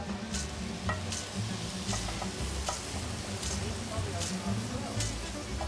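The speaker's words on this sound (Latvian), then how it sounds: "Tiek ņemti 5 kg sīpolu, nomizot un apcept eļļā kopā ar lauru lapiņām." Onions frying in oil with bay leaves, a 5 kg batch in a ship's galley, give a steady sizzling hiss with faint stirring scrapes and occasional sharp ticks throughout.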